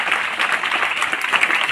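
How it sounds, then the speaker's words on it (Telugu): A school audience claps at an event handing out tablets to eighth-grade students in Rayachoti. The brief, dense patter of many hands is steady and fairly loud, with no voices over it. "మీరందరూ కూడా ఒక చప్పట్లతో ఆయన ధన్యవాదాలు తెలియజేయాలి"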